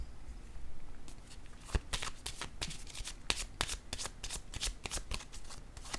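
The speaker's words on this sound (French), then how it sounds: "Je vais piger une autre carte." A deck of cards being shuffled and a card drawn, with a burst of riffling followed by a long run of crisp, rapid flicks and snaps close to the listener, with no talking.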